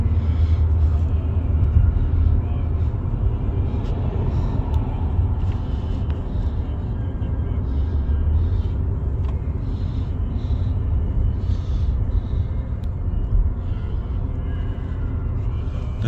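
A car driving on the road heading home from Sam's Club, heard from inside as a steady, loud low engine and road rumble that holds evenly from start to finish without pauses.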